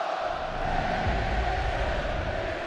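Rugby league crowd at a Hull v Leeds match singing together, a broad sustained roar of massed voices filling the stadium, steady and fairly loud throughout.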